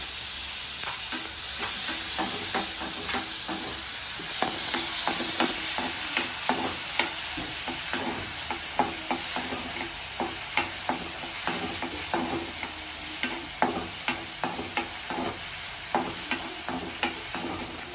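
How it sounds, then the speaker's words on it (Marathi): Radish vegetable frying and being stirred in a pan, a steady close sizzle broken by frequent sharp scrapes and clacks of the spoon against the pan throughout, with no talking. "चांगलं फ्राय होऊ द्यायचं व्यवस्थित"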